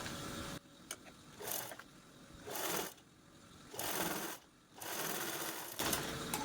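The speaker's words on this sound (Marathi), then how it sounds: "दुसऱ्या साईडने पण आपल्याला झिपचा जो दुसरा पार्ट आहे तो या पद्धतीने स्टिच करून घ्यायचा आहे" An electric sewing machine stitches a zipper onto a multi-pocket fabric purse, running in five or six close, steady whirring bursts separated by short pauses, with no talking.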